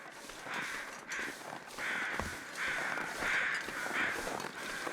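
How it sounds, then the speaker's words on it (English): Carrion crows caw repeatedly in the video game The Long Dark, a chorus of harsh, rasping calls in an irregular rhythm over a steady wind-like ambience, some calls close and loud, others farther off. "I hear lots of carrion crows"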